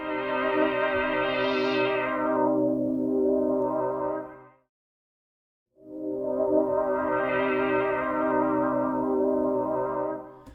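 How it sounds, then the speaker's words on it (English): A sustained synth tone runs through a sweepable DJ filter in Tracktion Waveform 12, its brightness rising and falling in a slow sweep, then cutting out for a second before a second sweep on the same held sound. "this is the new DJ filter,"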